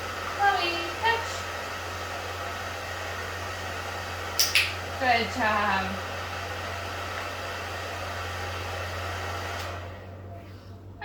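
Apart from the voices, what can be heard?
hair dryer running and blowing air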